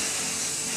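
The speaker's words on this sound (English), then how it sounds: "I use this coconut spray from Simple Truth" Simple Truth coconut cooking spray releases a single short, steady hissing burst, close and fairly loud, lasting under a second, with no talking.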